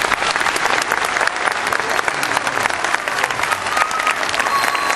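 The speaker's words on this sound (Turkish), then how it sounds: "Çocuklarımızı alkışlarla ve dualarla gönderiyoruz." Dense audience applause at a Turkish-language community event, continuous loud clapping from a crowd filling the whole stretch.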